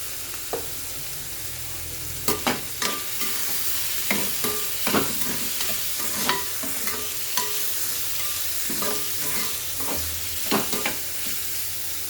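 Mixed vegetables being stir-fried with turmeric, chilli powder and salt, a steady sizzle with repeated scraping stirs of the spatula against the pan at an irregular rhythm, close and fairly loud, with no talking.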